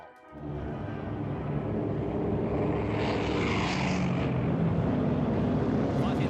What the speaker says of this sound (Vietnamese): Báo cáo 12 máy bay ném bom kiểu một hướng đi riêng lẻ